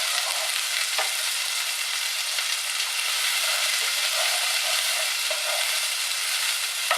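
Onions frying in a pan for corn chowder give a steady, close, bright sizzle that runs evenly throughout with only faint clicks, no talking.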